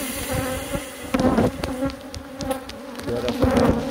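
A dense, continuous buzz of many honeybees, swelling and easing in loudness, heard up close with no talking.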